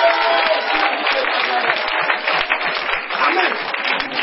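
A church congregation applauds and cheers loudly and steadily during a sermon, a dense sustained wash of clapping that fills the whole stretch.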